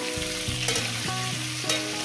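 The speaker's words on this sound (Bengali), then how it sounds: "আলুটাকে আমি প্রায় 4 থেকে 5 মিনিট টাইম ধরে ভেজে নেব" Potato pieces fry in hot oil for a fish curry with vegetables. A steady, close sizzle runs throughout, with a few clacking stirs and scrapes in the pan. There is no talking.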